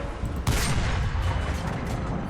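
The cannon of an Sd.Kfz. 234/2 Puma armored car fires in War Thunder, with a sharp blast followed by rumbling, dense battle noise that stays loud throughout.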